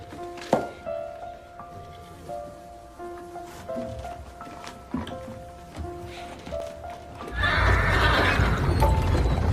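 Horses in a war film, with repeated whinnies and neighs over a steady scene, then a louder rush of noise and movement near the end that may be galloping.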